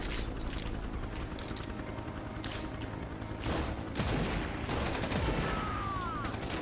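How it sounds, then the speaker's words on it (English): Rapid gunfire crackling in a busy firefight in the shooter game XIII, including shotgun blasts, dense and steady throughout, with a few louder bursts and a whistling streak near the end. "I should probably be using the shotgun here."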